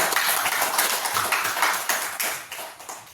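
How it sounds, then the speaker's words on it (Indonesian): Students clapping together in a classroom, a dense patter of many hands that peaks early and gradually fades over a few seconds, with no voices over it. "tepuk tangan dulu semua"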